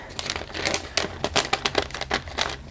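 Plastic bag packaging being cut open with scissors, a run of sharp crinkling snips and rustles at close range, with no talking.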